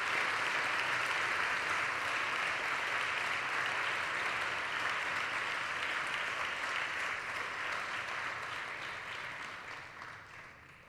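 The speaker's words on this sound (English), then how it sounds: "a big round of applause for all those awardees" A hall audience at an award ceremony for Eswaramma Puraskara awardees at Brindavan Ashram, Whitefield, claps in a sustained, loud round of applause that holds steady and tapers off near the end.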